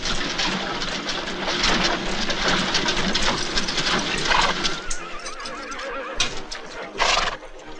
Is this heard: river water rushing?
no